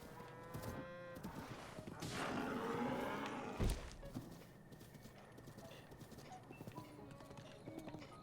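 Galloping horse hooves in The Legend of Zelda: Breath of the Wild, a steady rhythmic clip-clop running for several seconds with a sharp thud partway through, fairly quiet and without talk.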